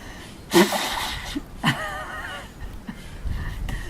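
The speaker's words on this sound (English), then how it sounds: "and you blow your nose." Two sharp, forceful nasal blows into a handkerchief in quick succession, close by, clearing salt water after a saline nasal rinse, followed by softer sniffs and breathy rustling.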